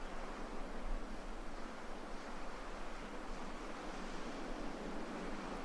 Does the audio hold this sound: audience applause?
no